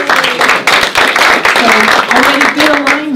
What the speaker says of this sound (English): Let's give Team 1 a round of applause.